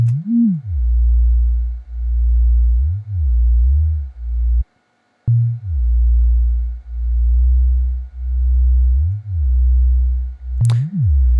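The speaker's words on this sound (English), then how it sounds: "you're going to hear some phase cancellation between the 2 sine waves" Two low sine tones pulse steadily with phase cancellation, swelling and fading in a slow wobbling beat, with a brief dropout and a sharp click near the end.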